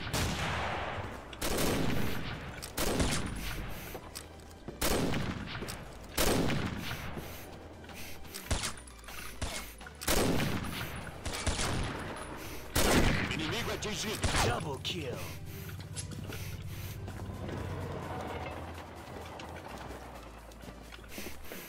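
Rapid bursts of gunfire from the online shooter Combat Arms, with repeated loud volleys and single shots through the first half, then quieter scattered fire; a player talks over parts of it.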